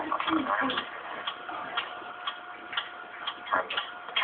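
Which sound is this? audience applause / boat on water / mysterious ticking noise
mysterious ticking noise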